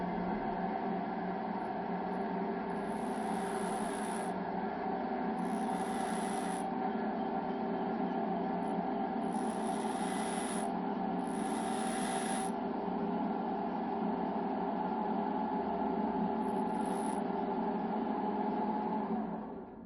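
A drill bit is turned and raised against a bench grinder wheel during sharpening, giving a steady grinding rasp under a constant motor hum, with several short high-pitched bursts of contact.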